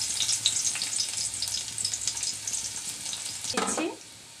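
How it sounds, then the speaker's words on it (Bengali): Thinly sliced garlic sizzles steadily in hot mustard oil in a wok, a close, continuous frying hiss with brief stirring scrapes near the end before the sound drops away. "তেল গরম হয়ে গেছে, সরিষার তেল। এবার আগে আমি 1 মিনিট রসুনটা আগে দিচ্ছি"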